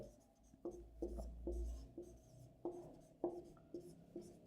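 A pen writes a line of text on paper, giving soft scratchy strokes in short, close bursts over a quiet background, with no talking.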